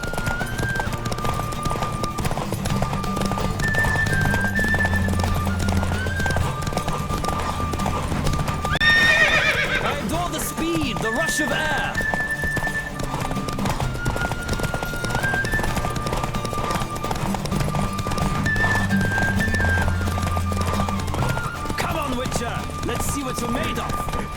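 A horse in the Witcher 3 video game clip-clops at a steady gallop, with repeated whinnies and neighs over galloping hooves and background music.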